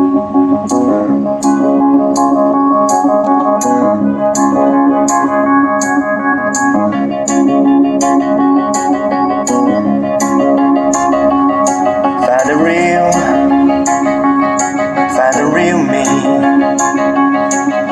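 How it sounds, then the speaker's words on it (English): A full song plays loudly and continuously from a Hawk Plus electric scooter's built-in Bluetooth speakers, with steady beats, sustained instrumental tones and bright rhythmic hi-hat ticks throughout. "that's the sound output from this Hawk Plus electric scooter music system"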